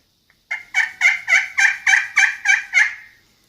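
A turkey call imitates a hen turkey's yelps, giving a run of nine evenly spaced, medium-loud, raspy notes close up against silence.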